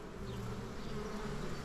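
A steady, loud swarm drone rises as honeybees are shaken into a hive box, the buzzing continuous and near throughout, with no speech.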